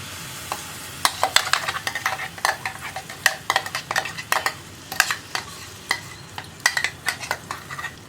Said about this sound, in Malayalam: പപ്പായയിലുള്ള വെള്ളമൊക്കെ ഒന്ന് വറ്റി വരുന്നത് വരെ നമ്മളൊന്ന് ഇളക്കി കൊടുത്ത് വരട്ടിയെടുക്കണം